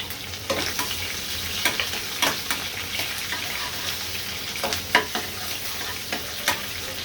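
Chopped garlic and onion frying in hot oil for a prawn and pumpkin curry, a dense steady sizzle with repeated sharp stirring clatters close by.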